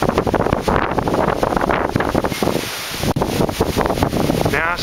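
Strong gusty wind from a windstorm buffets the microphone with loud, roaring rushes in cold weather, while a voice speaks briefly beneath the blustery noise.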